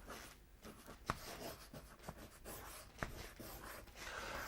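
Marker or pen writing notes on a board during an ecology lesson, faint scratchy strokes with a few sharper taps, close and quiet with no talking.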